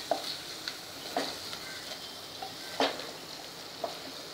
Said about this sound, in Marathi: हे पण छान असे अर्धा मिनिट परतायचे आहेत सुके मसाले